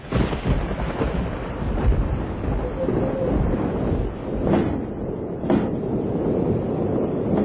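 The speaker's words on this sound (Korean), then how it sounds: "밤새 천둥번개가 내리치던 밤, 바람이 어찌나 세게 부는지" A night thunderstorm during the monsoon rains, with strong wind roaring and rain pouring steadily, while a couple of sharp thunder cracks break through near the end.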